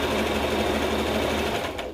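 Sewing machine stitching pieces of a dress, a loud, close, steady whirring run of the needle mechanism that carries on without pause and cuts off just before the end, with no talk.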